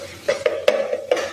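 Spices, onion, garlic, turmeric and chili being stirred and fried in a pan, heard as a handful of sharp spoon-on-pan clinks in an uneven rhythm over a faint background, with no voices.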